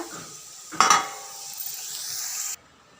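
Eggplant slices frying in a pan for a home festive meal, a steady close sizzle with a brief louder clatter of stirring near the start, then the hiss cuts off abruptly.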